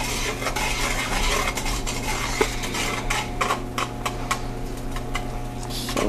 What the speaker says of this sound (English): I'm going to just continue to stir this until that grittiness is gone and it's more like a liquid.